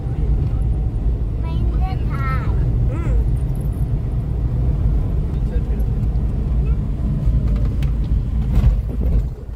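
A car drives on a shallow beach, its engine a steady low rumble close by, while people talk over it.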